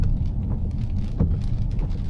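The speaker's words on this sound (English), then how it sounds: "It's raining." Steady rain falls outdoors on an evening during a power outage, making a continuous dense hiss with no pauses and no voices.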